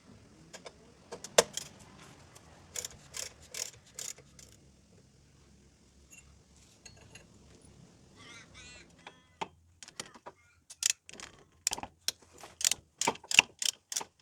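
10mm Allen key bolts undone on a wheel hub assembly of a Holden Commodore VR-VE, sharp metallic clicks and ratcheting bursts in quick irregular runs, close and fairly loud, with quiet pauses between.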